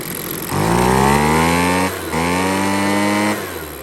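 Husqvarna 130BT chainsaw with an aftermarket carburetor revving to full RPM twice, each rise a loud high whine that holds, dips briefly between bursts, then drops back.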